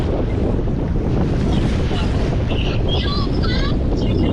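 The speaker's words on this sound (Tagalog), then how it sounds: "paod ang kusog ang hangin na ah." Strong wind roars across the microphone at a seaside fishing area in Jeddah, Saudi Arabia, a loud, unbroken rush with waves underneath and some faint higher tones drifting through.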